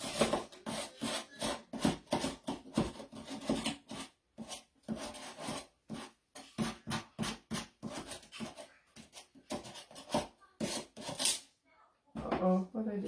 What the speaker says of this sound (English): Just don't sand as hard right there.